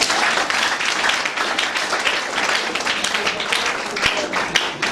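A church congregation claps together during a sermon, a dense, steady wash of applause with scattered sharper claps that holds for the whole stretch.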